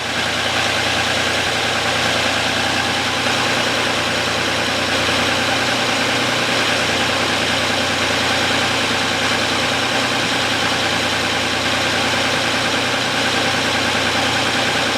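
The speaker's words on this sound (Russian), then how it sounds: "Вот хорошо видно, двигатель заводится хорошо." A 2007 Audi Q7 engine idles cold while warming up, a steady, loud mid-pitched drone with constant vibration and no change in revs, close by with no voices.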